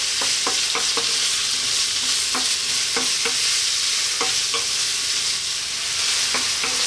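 Garlic and onions sizzle loudly in a hot pan while being stirred, a dense continuous hiss broken by a regular series of sharp spoon scrapes and taps, close up, no talk.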